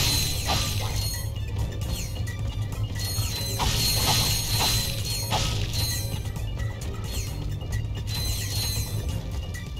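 Glass tubes break in Ratchet & Clank: Going Commando amid the game's mechanical clatter, with several sharp shattering crashes over a busy metallic background of ratcheting and whirring effects.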